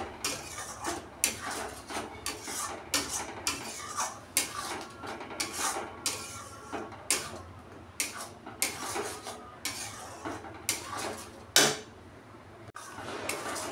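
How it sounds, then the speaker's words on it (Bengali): Spice paste being stirred and fried in a pan for a prawn-stuffed pointed gourd dolma, with repeated scraping, creaking strokes in a steady rhythm, close and fairly loud, no talking. "ভালো করে এবার মশলাটাকে এই পেস্টের সাথে কষিয়ে নেব, পুরো কাঁচা গন্ধ যাতে চলে যায়।"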